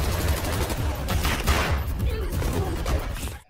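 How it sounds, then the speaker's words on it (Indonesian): A dense, continuous burst of gunfire rattles through a chaotic shootout in a film scene, the shots overlapping loudly with a few voices mixed in before it cuts off. "Terjadi tembak-tembakan antara satu sama lain."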